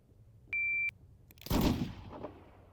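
A single revolver shot fired in a video game bursts out with a loud crack and short rumbling tail, preceded by a brief electronic beep.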